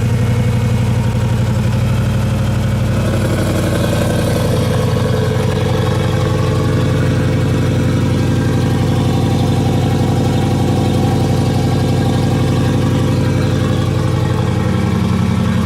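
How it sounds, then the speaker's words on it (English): A 500 hp HEMI V8 in a Jeep Wrangler JK idles loudly through an open exhaust, a deep, steady, throbbing rumble close by with a slight lift in pitch partway through. "That's with the open exhaust."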